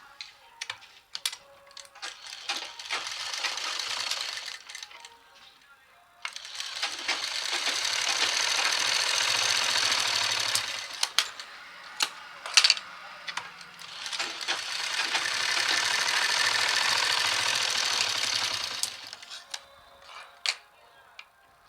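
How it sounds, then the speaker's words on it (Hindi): Sewing machine stitching the round sleeve of a patiala suit, three stretches of fast rhythmic needle clatter separated by quieter pauses filled with clicks and handling sounds. "इस तरह से मैं सिलाई करते जाऊंगी।"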